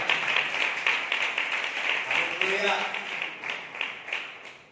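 Church congregation clapping in steady rhythmic unison during a pastor's sermon, sustained and fairly loud, with a voice calling out over the claps.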